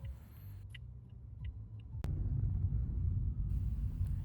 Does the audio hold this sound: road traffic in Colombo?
yes